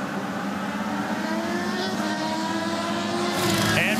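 Paul Tracy's IndyCar at the 2009 Honda 200 drones with a steady engine note that rises and brightens at the end, heard from mid-distance in a racing setting.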